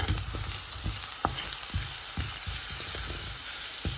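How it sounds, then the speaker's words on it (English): Garlic paste frying in a pan for a mushroom coconut curry, a steady close sizzle with several sharp spits and crackles popping through at irregular moments. "put in the garlic paste, and also garlic needs to be cooked in order to get the flavor"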